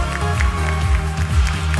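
An audience at the Teen Universe 2021 pageant applauds a winner from Mexico, with dense, loud clapping and crowd noise mixed with music throughout.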